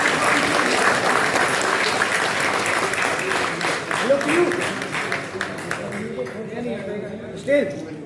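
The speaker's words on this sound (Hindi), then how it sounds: "तालियां बजाते हैं।" An audience at an awards ceremony for newly selected civil service candidates claps steadily for several seconds, the applause thinning later as voices talk over it.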